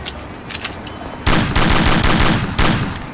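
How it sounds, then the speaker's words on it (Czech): Magnum revolver fire in the video game Mafia: a few faint early reports, then a series of loud, sharp gunshots in quick succession, close and punchy, with no talk. "Tak si to vyzkoušíme s Magnumem, jak to bude střílet vlastně neomezeně."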